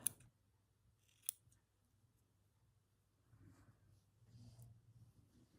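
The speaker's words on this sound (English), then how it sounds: "Need better scissors than that." Scissors snip through paper layers for a journal page, two sharp faint cuts early on, followed by quiet rustling and soft breathing up close.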